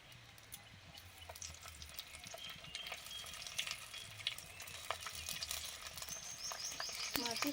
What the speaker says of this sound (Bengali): শুকনো লঙ্কা প্রথমে মাছের মাথাগুলো দিচ্ছি